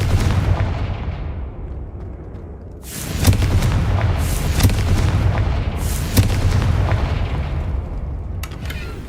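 Fiery blasting spell explosions in Hogwarts Legacy gameplay, a run of loud booming bursts with sharp cracks after a low rumbling start, repeating every second or so over a dense game soundscape.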